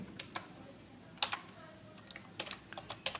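Quiet keystrokes on a computer keyboard as "Hello World" is typed, scattered sharp clicks in small clusters over a faint background hiss.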